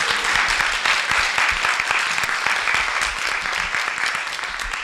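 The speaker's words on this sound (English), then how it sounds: "We love clapping." An audience at a university three-minute thesis competition final claps warmly, a thick, close wash of many hands applauding steadily and slowly tapering toward the end.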